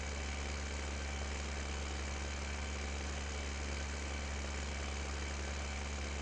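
A tractor engine runs steadily beside a riverbank, a constant low droning hum with an even vibration throughout and no voices.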